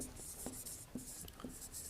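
A marker or chalk scratching across a board while someone solves a maths problem, giving short, quiet, repeated strokes roughly every half second over a steady background hiss.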